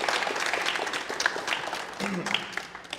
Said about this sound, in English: Just one more round of applause for Master Shim.